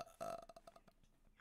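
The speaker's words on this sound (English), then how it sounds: "Keep going, bro. Keep burping." A loud, drawn-out burp rumbles for about a second, fading into softer gurgles, and a short second burp bursts out at the very end.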